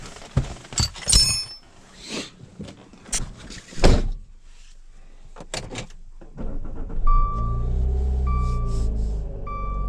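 A Dodge Dart with ongoing mechanical issues is heard in a run of door and latch clunks and clicks. A steady engine hum then rises as the car pulls away, with a repeating chime sounding over it.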